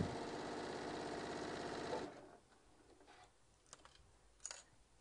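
A sewing machine basting a bag runs in a fast, steady stitching burst for about two seconds, then stops, leaving a few faint handling clicks.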